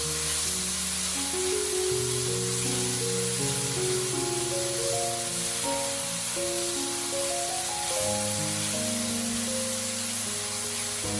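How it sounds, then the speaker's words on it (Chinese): Tomato and diced ham sausage are stir-fried in a wok, giving a steady, loud sizzling hiss that runs unbroken beneath background music. "继续快速翻炒，把香肠炒香"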